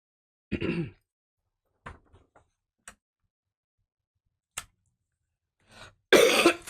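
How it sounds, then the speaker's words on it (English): A single close cough near the start, then scattered small clicks and taps, ending with a loud burst of noise. "I'm getting better with the cough"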